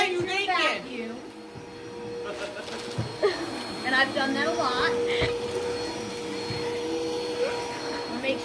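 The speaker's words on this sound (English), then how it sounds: "So I'm going to vacuum up my living room." A vacuum cleaner runs steadily while vacuuming a living room, a continuous close motor drone that carries on under conversational speech throughout.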